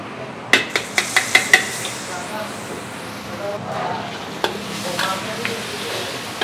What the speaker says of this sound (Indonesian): ini minyaknya udah gua panasin. Kita tumis bawang putih dulu